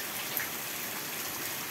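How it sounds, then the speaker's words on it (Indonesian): Rain falls at night as a steady, faint, even hiss with no talk or other distinct sounds. "Di sini posisinya lagi hujan."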